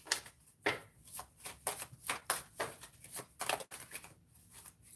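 Tarot cards are shuffled by hand in a series of crisp riffles and slides that come in irregular bursts, soft and close with no voices.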